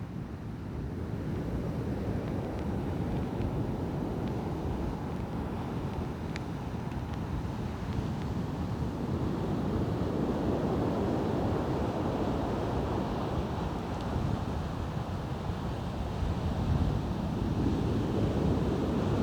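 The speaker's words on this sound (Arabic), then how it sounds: "البحر هائج جدا." Rough sea at Oued Laou pounds the shore in a steady, continuous roar of heavy surf, with gusty wind buffeting the microphone throughout and no voices.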